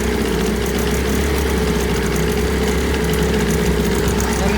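A 1980 Chrysler Sea King 15 horsepower outboard motor runs at full throttle, producing a loud, steady, unbroken engine drone that holds constant without change.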